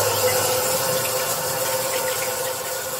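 A piece of green pepper rinsed under a running kitchen tap, a steady close hiss of flowing water with no voices.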